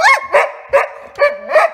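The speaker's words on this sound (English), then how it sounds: "One more bark." A dog barks about five times in quick succession, close and loud, on a solo backpacking trip along the Alexandra and Castleguard area, with short pauses between the sharp yips and no talking.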